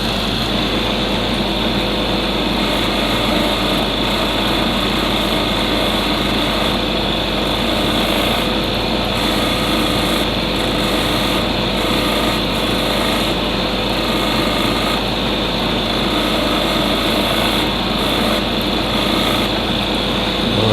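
A power tool grinds and polishes a hard opal stone, its high, steady whine holding without a break for about twenty seconds, loud and close.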